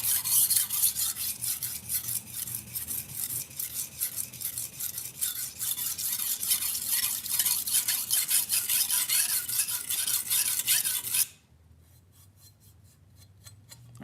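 A knife burr scraping on a sharpener: a rough, rapid rasp of metal on an abrasive surface runs steadily for about eleven seconds, then stops abruptly, leaving quieter faint scrapes.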